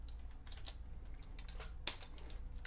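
Fingers typing code on a computer keyboard, a quick irregular run of soft key clicks with one sharper louder tap partway through, close and fairly quiet.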